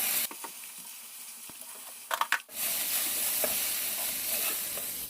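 Sliced shiitake mushrooms stir-fry with salt and pepper in a pan over lowered heat, with red chili and green cucumber peppers added. Quiet clicks and a burst of scraping lead into a louder, steady sizzle.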